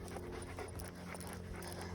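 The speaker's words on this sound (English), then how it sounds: "And your big black dog." A big black dog panting outdoors on a sunny Texas morning walk, with quick rhythmic breaths close by over a noisy background and faint hoof-like clopping.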